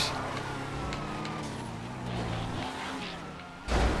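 A car engine drones in a GTA FiveM race, a sustained rumbling tone with subtle pitch shifts and a brief louder burst near the end.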